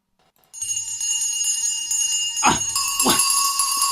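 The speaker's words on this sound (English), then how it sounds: "Every bell in the house must be ringing." Several bells ring out together in a sustained, shimmering clang, joined by a couple of swelling tones partway through.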